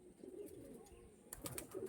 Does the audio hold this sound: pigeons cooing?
yes